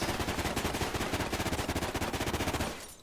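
Rapid automatic gunfire in Call of Duty: Ghosts, a loud sustained burst of evenly spaced shots lasting nearly three seconds before cutting off abruptly.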